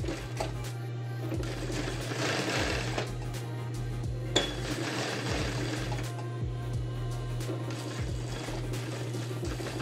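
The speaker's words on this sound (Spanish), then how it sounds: "voy a pespuntear sobre el lado izquierdo para hacer el dibujo de la portañuela" A sewing machine topstitches the fly of men's trousers, its motor humming steadily with rapid needle clatter in bursts and a few small metallic clicks; no talking.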